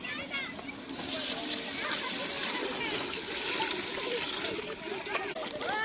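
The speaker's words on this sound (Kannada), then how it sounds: "ಒಂದಕ್ಕೆ ಎರಡರಷ್ಟು ನೀರು ಹಾಕಿ" Water pours into a large pot of ghee rice in a steady, continuous splashing rush, close by, while people talk over it.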